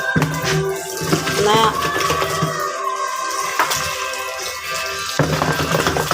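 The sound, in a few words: running water for cleaning under the sink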